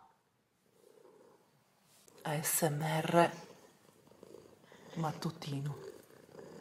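A pet cat purring softly on a sunny morning, a low rumbling purr near the microphone beneath a woman's quiet Italian speech.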